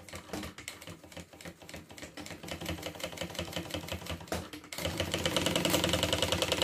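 Sewing machine backstitching while sewing a bag, rapid rhythmic needle clatter that runs steadily, then grows louder and denser near the end.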